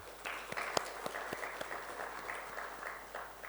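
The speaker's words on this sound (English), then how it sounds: "Let's give him a big round of applause." An audience at an indoor award ceremony claps steadily for several seconds, a soft, even patter of many hands heard from some distance with a faint voice underneath.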